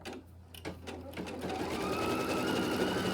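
Embroidery machine stitching a clover design, its rapid needle chatter starting after a few faint taps and then running steady and close to the end.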